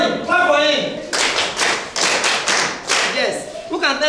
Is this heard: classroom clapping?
yes